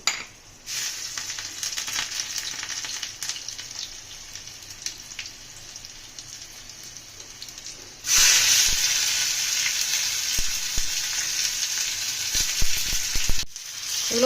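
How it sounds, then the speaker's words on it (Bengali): Steady oil sizzle of whole cumin, dried chili and garlic frying, jumping much louder about halfway through as more goes into the pan, with a few clinks of stirring. "তেল গরম হয়ে গেছে গোটা জিরেটা দিয়ে দেবো শুকনো লঙ্কা রসুন"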